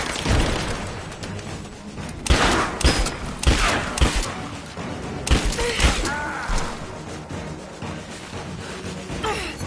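Rapid gunfire bursts and heavy impacts in the action game Rise of the Tomb Raider, loud and close, with repeated sharp shots and crashes over a constant rumbling background.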